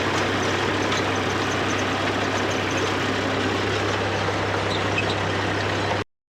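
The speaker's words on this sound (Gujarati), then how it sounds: "આપણે ત્યાંથી આ લઈ લીધું સાઈડમાં ટ્રેક્ટર" A tractor fitted with a rotavator idles in a field, giving a steady, low, droning engine hum that holds constant throughout and then cuts off abruptly at the end.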